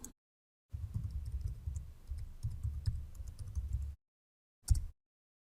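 Fingers typing a username and password on a computer keyboard for a business software login, a steady near run of soft key clicks lasting about three seconds, followed by a brief separate tap.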